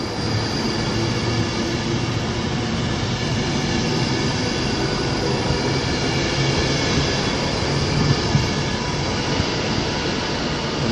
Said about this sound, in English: now arriving was the 1440 1 cross-country service to Manchester Piccadilly